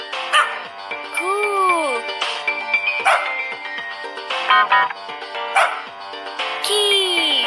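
Cartoon dog barks and yips from a kids' Arabic alphabet learning game, several short bright bursts spaced irregularly over playful game sound effects.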